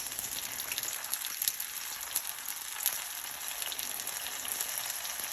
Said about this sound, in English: after you're done frying the banana lumpia